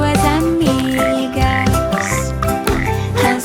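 Frog croaks blend into a Portuguese children's song, rhythmic throaty grunts repeating beneath the music and singing voices, loud and up close.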